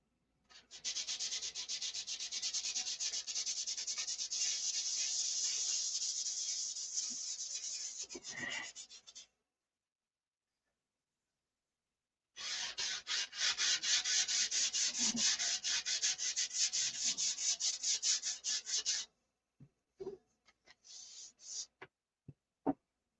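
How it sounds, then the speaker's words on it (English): Wood being sanded by hand in long steady runs of rhythmic scratchy rubbing, two sustained bursts separated by a pause and followed by a few short strokes, close and clear with no talking. "I'll have to sand her all down to the bare finish"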